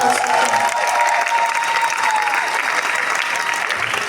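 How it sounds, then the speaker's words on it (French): Loud, sustained festival crowd applause at an evening anniversary celebration, thick continuous clapping with a faint sustained tone running beneath and some voices mixed in. "On l'applaudit s'il vous plaît."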